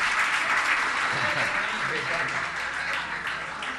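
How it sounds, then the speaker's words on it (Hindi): An audience at a Jain religious discourse by a Muni breaks into loud, sustained applause, dense clapping filling the hall throughout without a break. "ताली तो बजाइए माता पिता के लिए।"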